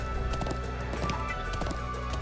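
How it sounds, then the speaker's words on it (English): A horse gallops in the video game Trails of Cold Steel 2, with rapid, steady hoofbeats over continuous game music. "I'm glad I still remember how to ride a horse."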